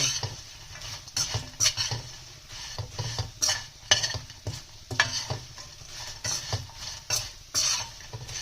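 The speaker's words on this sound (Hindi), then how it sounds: "उसके बाद हम इसमें नमक डाल रहे हैं और इन मसालों को हम अच्छे से इसमें मिक्स करेंगे।" Spices and salt being stirred in a hot pan for Sindhi seyal maani, with a spoon clinking and scraping against the metal over a soft sizzle, irregular and close, with no voices.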